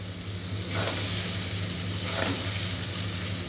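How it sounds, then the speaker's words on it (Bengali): Tomatoes and salt fry in a pan over onion, ginger and garlic already browned, giving a steady close sizzle that swells after the first moment and holds evenly with no voice over it. "টমেটোগুলো ভাজা ভাজা হয়ে যাবে"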